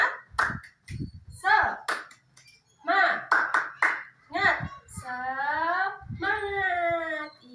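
Children chant and clap in unison for the 'tepuk semangat' spirit clap in a classroom, with bursts of rhythmic hand claps between loud, sing-song group shouts.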